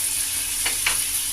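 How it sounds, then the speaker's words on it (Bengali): Boiled jackfruit and potato pieces sizzle in hot oil with salt and turmeric, a steady close frying hiss with two brief stirring scrapes in the middle. "এখন আমি এঁচোড় আর আলুগুলো ভেজে নেব।"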